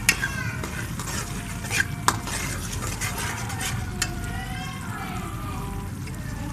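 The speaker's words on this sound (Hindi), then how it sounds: "ये देखें हमारी सूजी बस अब तकरीबन 2 मिनट तक भूनेंगे इसे हम" Semolina roasts in ghee for halwa, stirred in a pan with a gentle, steady sizzle and frequent scraping and clinking of the spoon against the pot, close by, while someone talks over it.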